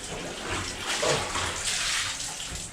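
Steady running water splashes and hisses continuously, rinsing a wetsuit, close by with no talking.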